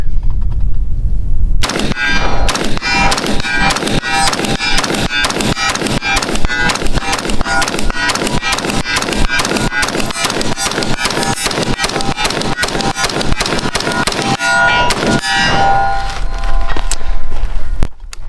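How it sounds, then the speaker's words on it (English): An AR-15 with an LPVO scope fires rapidly at a steel silhouette target outdoors: a long, loud string of about thirty sharp shots in quick, slightly uneven rhythm, then it stops, with wind noise before and after. "empty here as fast as we can on that silhouette and see how cool a nice LPVO is."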